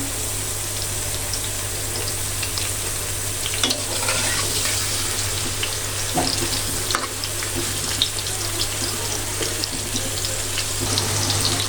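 Peeled potatoes, boiled with turmeric and salt, fry in a pan with a steady, close sizzle, occasional louder crackles and stirring scrapes over a constant low hum.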